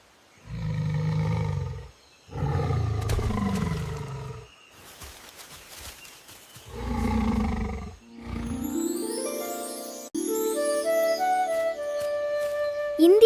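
A tiger lets out several deep, loud roars with short pauses between them, then bright chiming musical tones take over near the end.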